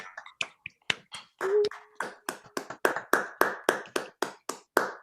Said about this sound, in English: We should clap for Christine.